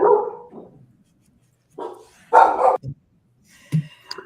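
A dog barks in short, loud bursts with pauses between them, the last few barks sharper and more yappy, close by and otherwise quiet.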